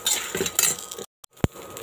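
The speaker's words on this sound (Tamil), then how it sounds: "இதையும் சேர்த்து நல்லா 1 நிமிஷம் வறுத்து எடுத்துக்கலாம்." Black sesame seeds roasting in a pan while being stirred, with a close scraping and rustling of a spoon against metal, a brief pause, then a single sharp clink.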